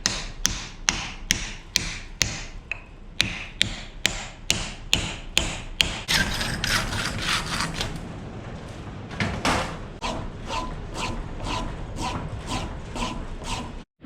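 Sharp metal hammer blows ring out one after another at a steady beat, flattening a wedge into the head of an old sledgehammer, then give way to a rougher scraping clatter, all close and loud.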